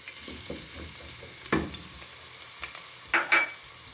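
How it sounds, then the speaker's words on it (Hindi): Ginger garlic paste sizzles and crackles in hot ghee, with a few sharper stirring clatters and pops breaking through the steady frying hiss. "मैंने हाफ़ कप घी लिया है और 2 टेबलस्पून अदरक लहसुन का पेस्ट है, ये शामिल करते हैं"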